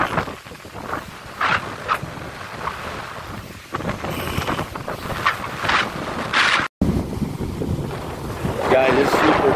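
Strong, cold wind gusts roar across an outdoor microphone, buffeting loudly and steadily throughout, with a brief cutout and faint voices underneath.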